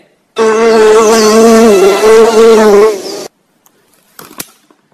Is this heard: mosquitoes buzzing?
yes